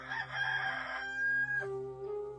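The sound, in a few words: rooster crowing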